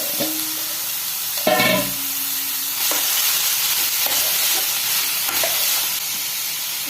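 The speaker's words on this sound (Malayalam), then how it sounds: "ശേഷം കറിവേപ്പിലയും കൂടെ ഇടണം" Curry leaves dropped into coconut oil with popping mustard seeds and urad dal, a sudden loud burst of sizzling that settles into steady frying with a few stirring scrapes, close and without talk.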